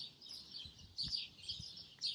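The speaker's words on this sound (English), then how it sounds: "It's another sparrow." A sparrow chirps repeatedly in a summer garden, quick high twittering calls in short bursts, faint and somewhat distant over soft outdoor background noise.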